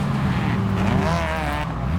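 Race cars, including a Lamborghini, Corvette, McLaren Elva and Ford GTX1, roar toward the finish line with a continuous loud engine drone and a rising whine as they pass.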